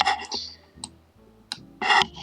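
A few sharp mouse clicks, spaced irregularly, sound close and clear against a quiet background while setting up MetaMask.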